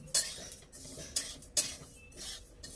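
Sesame seeds being roasted on medium heat in a hot kadhai, a metal spoon scraping and clinking against the pan in a few sharp strokes amid faint crackle, close and fairly quiet.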